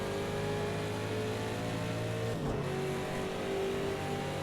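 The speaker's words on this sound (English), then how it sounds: "that beautiful GT4 Mustang engine from Roush Yates sounds absolutely awesome" A Roush Yates GT4 Mustang race car engine in Project Cars 2 at Bathurst roars loud and close, holding a steady high-revving drone, with a brief dip and gear change midway before pulling on again; no talk over it.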